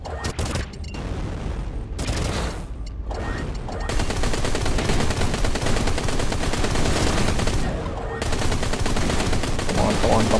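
Sustained rapid weapon fire from spacecraft combat in the space shooter game Everspace 2, loud and continuous with dense bursts and brief dips, playing alone.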